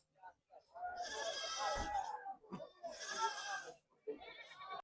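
Goats bleat loudly and close by in several drawn-out calls, with short pauses between them, at the Pedgaon goat market in Maharashtra.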